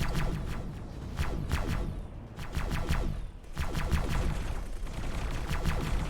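Spaceship strafing gunfire in the space game X4: Split Vendetta: repeated bursts of rapid, rattling weapon fire with short gaps between volleys, fairly quiet and without talk.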